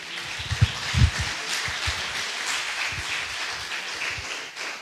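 A church congregation claps after a closing prayer, a fairly soft, diffuse patter of many hands that carries on steadily, with a few louder nearby claps near the start.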